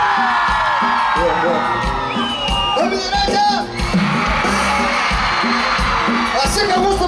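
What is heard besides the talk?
crowd shouting and cheering at a concert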